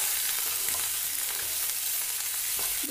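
Chicken pieces frying in a little oil in a village kitchen, a continuous crackling sizzle with occasional sharper pops and the scrape of stirring, close and steady throughout.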